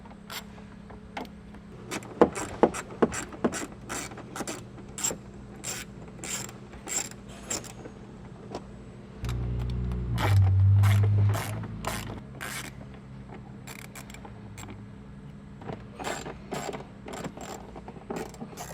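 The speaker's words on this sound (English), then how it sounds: "So we'll go ahead and take all these screws out on the fender flare." Screws are backed out of the fender flare on a Nissan Frontier truck with a 1/4-inch socket. A ratchet clicks in rapid, repeated bursts, broken by a short low whirring stretch, all loud and close with no voices.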